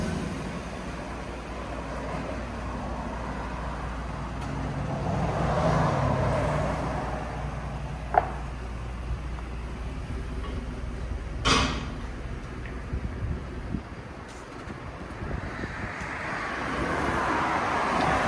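A Chevy truck fitted with a Borla Atak LS crate muffler idles with a soft, steady low rumble, quiet and continuous throughout.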